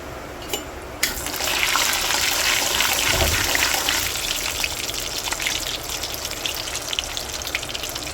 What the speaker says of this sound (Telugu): ఇప్పుడు మెంతులు వేగుతున్నాయి కదండి